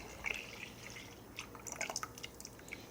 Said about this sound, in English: I'm going to pour this in here